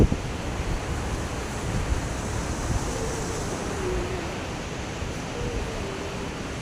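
Water surges and churns close by near a water board, a constant broad roar mixed with buffeting wind noise and no voices.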